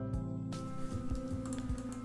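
A computer keyboard is used while the Z key is held down and a mouse drags to zoom, giving a few soft clicks and taps close by with no talking.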